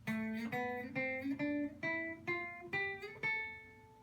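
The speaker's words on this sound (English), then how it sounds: "You can build a 1-string natural minor scale on the 3rd string." Single guitar notes of a natural minor scale are plucked one after another on the third string in a steady stepwise run, each ringing briefly before the next, played cleanly and alone.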